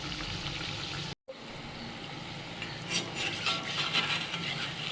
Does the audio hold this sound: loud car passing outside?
no